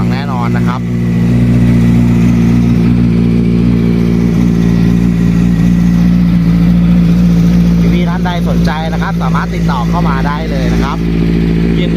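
A Honda CBR650F sport motorcycle engine idles steadily with a low, constant hum throughout, while someone talks over it for much of the time.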